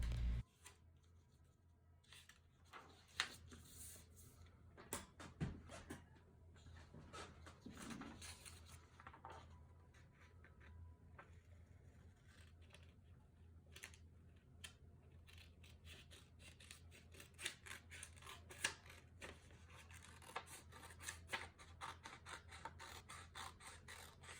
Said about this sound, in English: instead of creasing the paper, I just used a pencil to guide my cutting